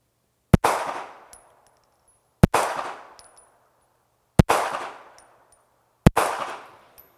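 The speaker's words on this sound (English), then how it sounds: "So let's shoot a couple of rounds and then we'll do a diagnostic." Four loud, sharp Kahr X9 pistol shots fired at a target, spaced about two seconds apart, each crack trailing off in a short echoing decay with no talk.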